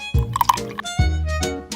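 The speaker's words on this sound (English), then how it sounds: "In the second, coconut milk." Coconut milk poured into a small bowl for miniature watermelon ice cream, two short liquid pours with splashy, gurgling onsets close to the mic, no talk.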